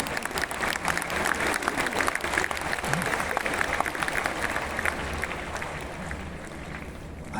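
Audience at a diploma ceremony claps steadily and fairly loudly in a large hall, the applause holding throughout before easing slightly at the end.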